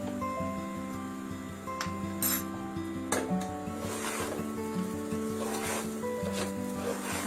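Food being stirred in a pot to work in added salt: repeated scraping and rubbing strokes against the pot over a steady background hum, with no speech.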